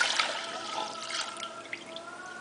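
Rubbing alcohol poured into a mixing bowl for a homemade gel plate, a steady close liquid stream with light splashing throughout the short pour.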